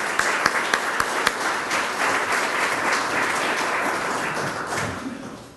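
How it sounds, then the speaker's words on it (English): A crowd at the dedication of the Franklin County Public Safety Building breaks into sustained applause, opening with a few sharp individual claps and then holding as a steady wash of clapping that fades slightly at the end. "Let's give them a round of applause"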